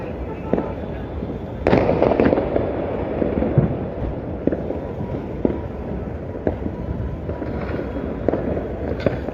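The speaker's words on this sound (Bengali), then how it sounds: "বিভিন্ন ধরনের আতশবাজি ফোটানোর দৃশ্য আমরা এই মুহূর্তে দেখছি" New Year's Eve fireworks bursting over Dhaka from rooftops across the capital, a dense run of distant cracking explosions with a louder cluster of bangs midway and a steady rumbling background.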